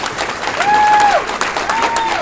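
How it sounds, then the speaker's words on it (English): Audience applause fills a hall during a Carolina Beach Music Hall of Fame induction ceremony, a steady round of clapping with a couple of sharp whistles ringing out above it. "Let's give Pat a big round of applause."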